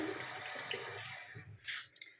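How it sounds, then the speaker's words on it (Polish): Warm tap water runs over hands being washed at a sink, a close splashing hiss that swells briefly near the end and then fades. "Myję sobie ciepłą wodą ręce."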